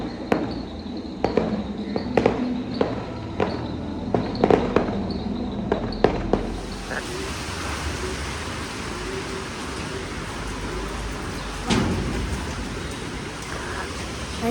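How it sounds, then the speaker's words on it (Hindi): Firecrackers and fireworks pop outdoors in a string of sharp, irregular bangs over steady background noise, then give way to a continuous hissing roar with one more distant burst later. "पटाखे का आवाज़ बहुत आ रही है, हल्ला भी बहुत हो रही है"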